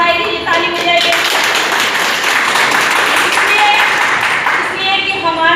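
Audience clapping at a Women's Day judicial event, a dense, loud burst of applause sustained through the whole span, with voices mixed in beneath the clapping.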